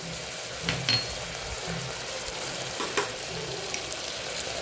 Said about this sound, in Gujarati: હવે પાછું આપણે દહીં સાથે શાકને સાતળી લઈશું